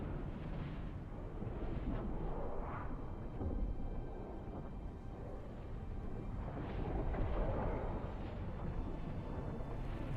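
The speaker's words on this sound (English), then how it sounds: "Like a spice explosion," A deep, rumbling roar from a spice explosion in the desert survival game Dune Awakening, loud and sustained for several seconds with surging swells, heard alone without talk.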